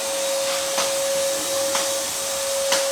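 A vacuum cleaner runs steadily over a newly laid hemp floor during installation, a loud continuous whine and rush with a few brief surges as the nozzle moves, no voices.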